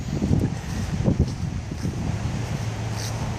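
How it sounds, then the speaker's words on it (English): Strong wind buffets the microphone outdoors in a park after a blizzard, with gusty low-frequency roaring and faint rustling that continues throughout. "So you can hear it's pretty windy out here."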